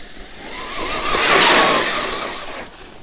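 A Traxxas X-Maxx RC truck rips past on its electric motor, a whining hum that swells to a loud peak midway and then fades as it moves off.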